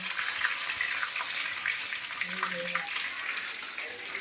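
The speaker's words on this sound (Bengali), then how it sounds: "এগুলো ভাজতে থাকছি" Bay leaf and cumin fry in hot oil in a pan, a continuous close sizzling hiss that stays steady throughout, with a faint voice underneath.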